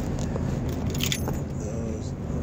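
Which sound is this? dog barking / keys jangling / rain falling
keys jangling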